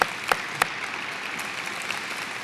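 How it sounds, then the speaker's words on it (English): Applause from the crowd at a memorial event at John Carroll University, a steady wash of clapping at moderate level with a couple of sharp, louder claps near the start. "a round of applause for all of you who are here"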